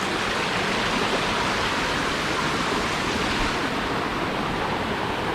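A steady, full rush of a small stream tumbling like a waterfall across a rural plot, the broadband roar constant and fairly close, with no speech over it.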